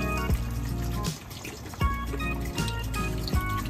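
Two liters of water pour into a cooking pot for pork sinigang, a continuous close gurgling fill with splashy bursts and thumps as the flow shifts.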